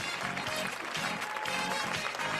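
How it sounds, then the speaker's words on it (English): An audience claps steadily to welcome a speaker at a launch party, a dense, even patter of many hands held at moderate volume throughout. "Everyone, please give a warm round of applause to welcome Joyce today."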